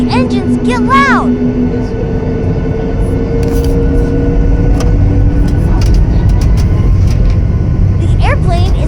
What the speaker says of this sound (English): Listen to the engines get loud.